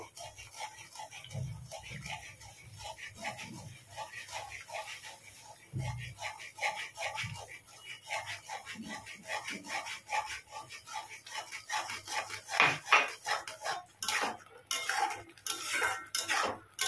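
Semolina is gradually stirred into boiling water in a pot, producing steady, close rhythmic scraping and rubbing of a utensil against the pot, with occasional knocks and quiet talk in the background.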